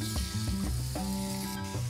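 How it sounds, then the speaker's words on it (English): Food frying in a hot skillet, a steady close sizzle with some tonal hum running underneath throughout, no talk. "Okay, back into our hot skillet again."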